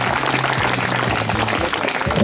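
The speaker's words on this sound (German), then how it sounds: "Applaus, oder? Also, Hände." An audience at a live event in Rüsselsheim claps continuously, a dense, even wash of hands that fills the short moment with no break.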